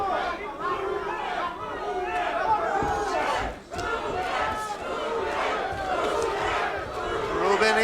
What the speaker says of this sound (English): crowd making noise for him